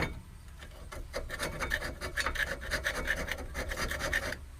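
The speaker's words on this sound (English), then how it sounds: "using a screwdriver and a file to get this nice and clean" A brake part from a 2003 Ford F-150 is scraped clean with a screwdriver and file, giving a steady series of close, rasping strokes at moderate level with no talk.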